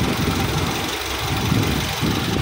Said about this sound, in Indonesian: Oke, ini udah nyala ya mesinnya.